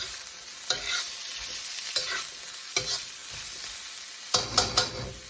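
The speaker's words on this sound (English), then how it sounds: "Give that a stir." Potatoes fry with a steady sizzle in a pan while a utensil stirs them in scraping bursts, with a quick cluster of stirs near the end. Close and moderately loud, with no talking.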